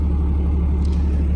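Cadillac Catera engine, the same drivetrain as the CTS, in a scrapped car, running with a steady, close, low rumble and no voices.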